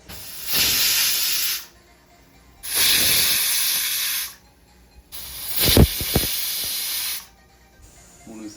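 A pressure cooker cooking prawn biryani lets off three separate loud bursts of hissing steam, each lasting about a second and a half, with brief gurgling rattles and quiet gaps between them.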